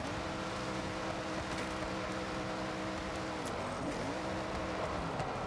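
A Subaru BRZ runs off-road in Forza Horizon 6, its engine droning at a steady, moderate pitch with a faint shift in tone midway, quiet and continuous with no talk.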